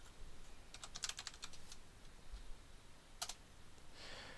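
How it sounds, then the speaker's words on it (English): Keys clatter on a computer keyboard as a Linux command is entered, in short quick bursts of close, crisp clicks with a pause between, over a quiet background hum. "type in your password, and then do Control L again and type in this command"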